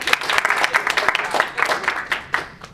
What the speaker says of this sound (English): So if we could just give her a round of applause.